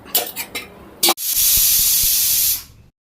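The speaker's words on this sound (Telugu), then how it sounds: "కుక్కర్లో పెట్టుకొని మూత పెట్టుకొని 3 విజిల్లు రావాలి" Pressure cooker whistle while green sorrel dal (chukkakura pappu) with tamarind and chilli cooks, a loud steady high-pitched steam hiss lasting about a second and a half after a few short clatters.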